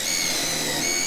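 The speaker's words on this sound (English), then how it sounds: "you just take your drill, you start drilling down" Continuous high-pitched whine of a power drill boring into a wooden window frame during a RAM Promaster 2500 van conversion, loud and close, steady throughout with no talking.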